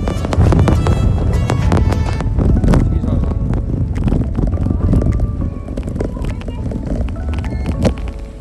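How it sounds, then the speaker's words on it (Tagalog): Heavy, continuous wind buffets the microphone with a loud low rumble while cycling in the Netherlands, steady throughout with slight gusting variations. "Sobrang lakas ng hangin nang lumabas kami."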